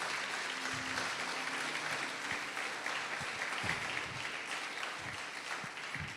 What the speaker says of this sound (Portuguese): Pode aplaudir o Senhor Jesus e glorificar Deus.